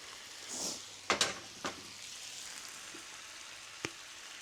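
Food frying and sizzling in a pot on a home stove, soft crackle with a few sharp clinks of a utensil, quiet and close, no talking.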